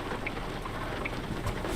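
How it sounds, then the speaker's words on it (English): Heavy torrential rain in American Truck Simulator, set in Wyoming, pours as a steady broadband wash with scattered droplet ticks and no speech. "Get past the torrential downpour, it's quite nice."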